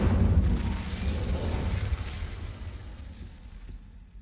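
A fiery blast from an Incendio spell cast in a video game, a loud rumbling burst that roars at once and slowly dies away, with no voices over it.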